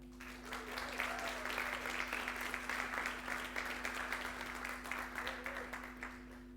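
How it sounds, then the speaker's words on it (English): Demo day crowd applauding Yara International at a sustainability event, a fairly soft, even spread of clapping from a gathered audience with a steady electrical hum underneath and no clear talk. "I really want to have a big applause to Yara International for that"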